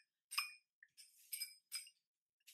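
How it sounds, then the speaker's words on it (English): A glass stirring rod clinks against a cup while stirring food coloring into water for a paper towel science experiment: four or five short, bright, close clinks in an uneven rhythm, with no talking. "I think I'm gonna go get a stirring rod to stir it."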